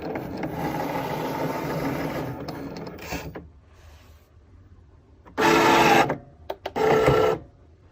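A Cricut cutting machine with a fine point blade works through an intricate paper lattice for a lantern centerpiece, giving a steady mechanical whirring that stops, then resumes in two short, louder bursts.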